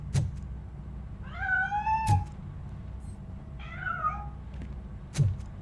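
A cat meows twice in RoboCop Rogue City, each a clear, drawn-out cry standing out over a low game hum, with a few sharp thuds and clicks around them.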